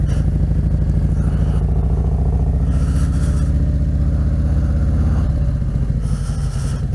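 Harley Softail motorcycle engine while riding: a loud, steady low rumble with a pulsing thump, a slight shift in pitch near the end, and a constant wash of road and wind noise.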